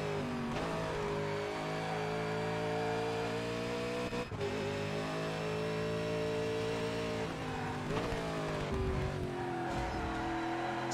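V8 Supercars race at the longer Eastern Creek circuit in ToCA Race Driver 3, a loud sustained engine drone with steady harmonic whine and gear-change shifts, continuous throughout.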